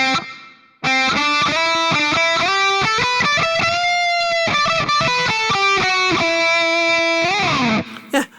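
Electric guitar played through a Mooer Prime P1 pedal with a subtle reverb effect: a continuous stream of bright, sustained picked notes and chords, loud and close, with faint ambient decay and no talking.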